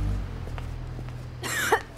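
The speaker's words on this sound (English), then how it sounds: "your cough still sounds bad." A single harsh cough bursts out near the end, following a stretch of low background hum and faint movement.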